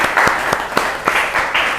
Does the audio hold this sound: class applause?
yes